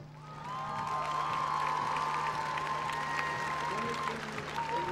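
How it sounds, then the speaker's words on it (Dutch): Applause from a street crowd greets a neighbourhood float at an outdoor parade, sustained and moderately distant, with a steady hum and background voices underneath. "Buurtschap Wernhout, applaus voor Zep."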